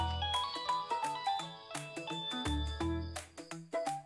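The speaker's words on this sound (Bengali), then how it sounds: "স্যার আপনার ফোন পাচ্ছে স্যার।" A mobile phone ringtone plays a loud, repeating electronic melody of bright tonal notes, continuous and close with no talk.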